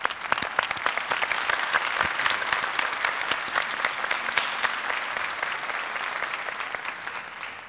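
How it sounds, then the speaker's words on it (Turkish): Strong audience applause for contestant Veli Bağ on a Turkish folk-song competition show, steady dense clapping from a crowd, sustained throughout with no talk over it. "Veli Bağ'a şöyle güçlü bir alkış rica ediyorum"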